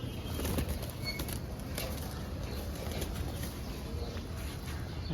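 Army pigeons shuffle and flap their wings close by, soft fluttery bursts and patter over a constant low background hum.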